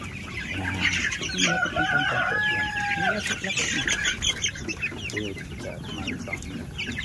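Meat-type broiler chicks fill a grow-out house with a constant chorus of chirping and clucking from many birds up close, with overlapping high calls running throughout.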